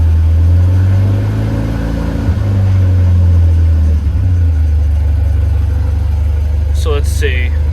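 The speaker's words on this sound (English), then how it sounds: "It'll flutter like that until I give it some gas." A Volvo 740 Turbo engine idles up close with a heavy, throbbing, fluttering rumble that wavers unevenly and never settles, and a brief chirp or squeak cuts in near the end.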